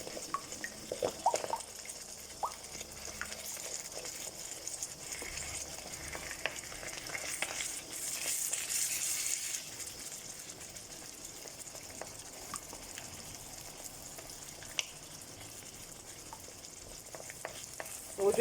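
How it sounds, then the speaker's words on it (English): A beaten egg scrambled in hot oil in a pan while a wooden spoon stirs it, for pad Thai with some chicken in the pan, giving steady close sizzling and frying with scraping stirs, with no speech. "we're going to pour our egg in, and we're going to scramble it."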